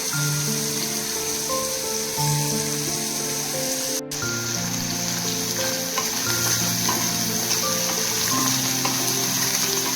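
Dry fish frying in hot oil for village-style chutney, a loud, dense, continuous crackling sizzle with a brief break midway and a steady hum underneath.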